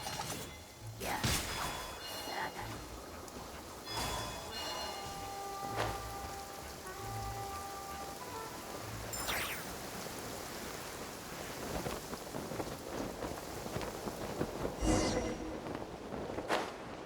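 Rain falls in the Genshin Impact game world, a steady patter with scattered sharper drops and splashes, moderately loud and continuous, with no voices.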